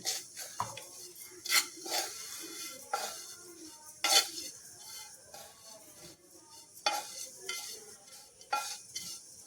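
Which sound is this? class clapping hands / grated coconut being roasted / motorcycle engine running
grated coconut being roasted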